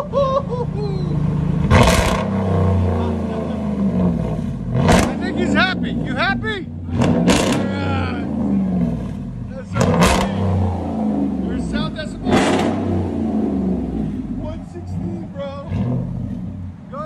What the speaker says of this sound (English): 2017 Ram 1500 Hemi. It's got straight pipe duals with 5-inch dips.